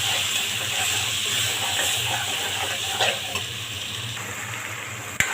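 Chicken with coriander powder and garam masala stir-fried in a pan, giving a steady close sizzle with soft scraping stirs throughout and a sharp clink near the end.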